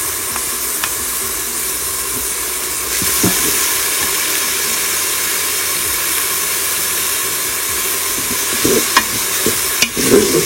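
Garlic fries in hot oil inside a Cookeo multicooker, a steady loud sizzle and hiss that grows stronger partway through, with scattered clinks and scraping from stirring near the end; no voices.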